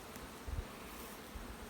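Honeybees buzzing in an outdoor bee yard, a soft continuous drone with a few low thumps and bumps, faint and steady without talk.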